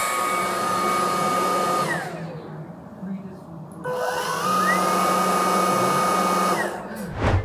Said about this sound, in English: The Proscenic P11 Lite has a powerful motor that gives an incredible suction.